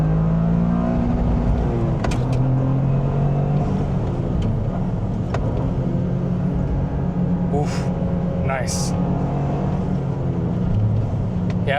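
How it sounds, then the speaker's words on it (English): A Toyota GR Corolla's three-cylinder turbo engine revs hard toward redline, its pitch rising in loud sweeps, then it shifts and climbs again. A driver makes a brief approving remark over it. "this car sounds so good at that red line"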